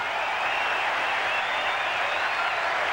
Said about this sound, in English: The big crowd at Fenway.